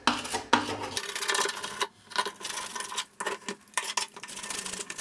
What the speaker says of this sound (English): using the little hook tool again, I'm just going to try and get underneath in that gap and just clear out any debris or old